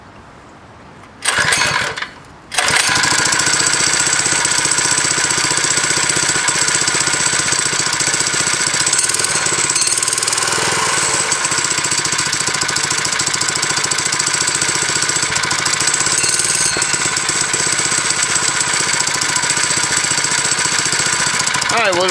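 A 3HP four-stroke motorized bike engine on its kickstand, set at half choke, catches after a brief sputtering attempt and then runs loudly and steadily with a constant, close, rattling drone.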